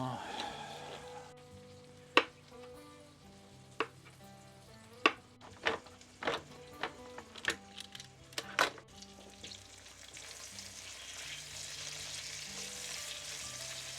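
Onions fry in a pan, a low, steady sizzle beneath a run of sharp clinks and knocks from utensils in the middle stretch, followed by a broader hiss toward the end.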